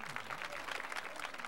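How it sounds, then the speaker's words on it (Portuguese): At the 2001 opening ceremony of the school games in Serra Negra do Norte, an audience claps in a soft, even wash of many hands. The applause sounds distant and faint and is heard alone. "Pode aplaudir, pode aplaudir."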